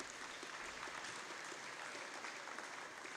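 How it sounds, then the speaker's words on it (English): Applause for volunteers at a high school awards evening, a faint, even wash of clapping from a distant crowd with no break throughout. "Let's give a big round of applause for all of these volunteers"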